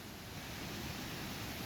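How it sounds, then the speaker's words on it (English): A small waterfall pours down beside an old building in the middle of a town, giving a steady, even broadband rush of falling water, close and unbroken, with no voices. "Awesome little waterfall right here."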